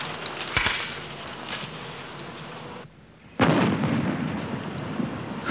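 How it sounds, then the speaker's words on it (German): Deep booming blasts of naval gunfire roll in from a distance, one sharp report early on and a heavier rumbling boom later. "Die schießen ja."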